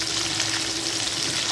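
Whole tilapia sizzles steadily in hot oil in a pan, a dense, even crackle that stays close and loud throughout, with no voices over it.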